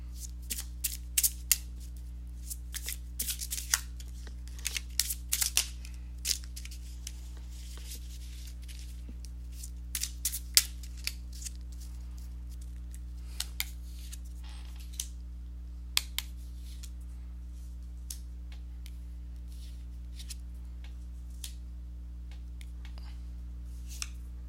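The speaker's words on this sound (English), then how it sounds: "let me go ahead and shuffle the cards" Soft papery flicks and riffles of cards being shuffled, scattered irregular bursts over a low steady hum, no talking.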